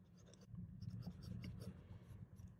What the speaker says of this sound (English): It's definitely a lot more comfortable to write with as well.